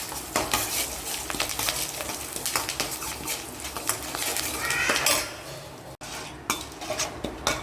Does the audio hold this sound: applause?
no